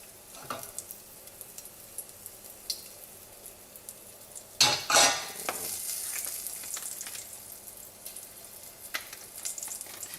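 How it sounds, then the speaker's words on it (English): Achiote and cumin bloom in a little hot oil for Colombian beans, a quiet low sizzle that flares into a brief loud hiss midway before settling into a gentle crackle with light utensil clinks. "The natto, or the achote and cumin both like to be bloomed in a little bit of oil."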